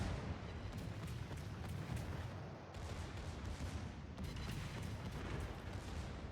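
Warship guns firing in World of Warships on the Prinz Heinrich, aimed at the Duke of York: dense, rumbling booms of naval gunfire and heavy impacts roll on without a break, loud and close, with two short sharp breaks along the way.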